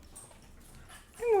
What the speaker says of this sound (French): Et mon petit chien.